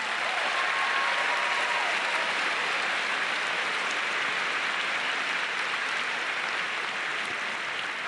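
A university audience gives a long round of applause at a political speech, a thick, sustained roar of clapping that holds level throughout without talk.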